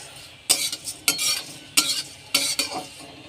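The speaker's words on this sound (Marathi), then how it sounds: "आता टाकूयात पोहे पोहे सुद्धा व्यवस्थित भाजून घ्यायचे आहेत हे आपले जाडे पोहे आहेत" Thick poha flakes roasting in a pan, stirred in four distinct scraping strokes about half a second apart, each a bright rustling swish over a faint, steady background, close and with no voices.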